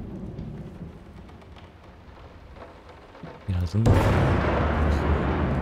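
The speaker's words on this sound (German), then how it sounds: "Gewitter." Thunder rumbles and cracks during a storm in the horror game Layers of Fear, a low rolling boom that bursts into a loud, sustained roar with rain, while someone speaks briefly early on.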